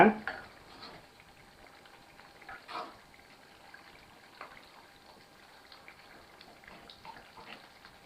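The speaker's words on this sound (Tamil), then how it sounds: "கொதி வந்துருச்சு இப்போது மீன் தலையை நம்ம ஆட் பண்ணிக்குவோம்" Fish head curry bubbling in a pot, a faint soft simmer with small scattered pops and gurgles under a voice speaking throughout.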